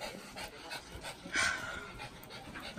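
A dog pants steadily and quickly nearby, quiet but continuous rhythmic breaths with a faint whine, indoors at home.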